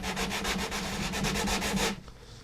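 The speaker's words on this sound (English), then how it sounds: "So I'm just sanding between the end of the fretboard and the 14th." Rapid back-and-forth rasping of sandpaper on a wooden guitar fretboard, steady and close, stopping abruptly near the end.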